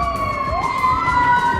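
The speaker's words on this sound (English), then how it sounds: "And here comes the sirens." A wailing siren sweeps up and holds a steady loud tone as an emergency vehicle passes close by, with traffic rumble underneath.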